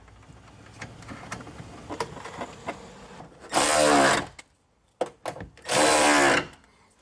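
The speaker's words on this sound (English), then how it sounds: "just tighten those screws back up once you have all your connections made" A power tool tightens screws during a towing wire harness install on a Kia or Hyundai. After a few quiet clicks it whirs in two loud, close bursts of about a second each, with a short pause between them.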